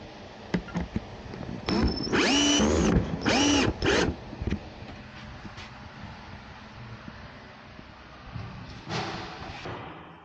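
Power drill driving screws to fix a piece to a camper van wall: a few short whirring bursts close by in the first seconds, then quieter handling noise and a brief final run.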